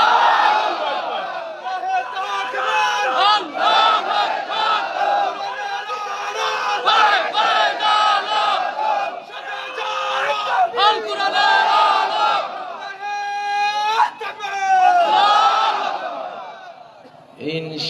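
A large crowd at a Bangla-language Islamic sermon shouts the takbir chant in loud, sustained waves of many voices, rising and falling together with brief lulls between bursts.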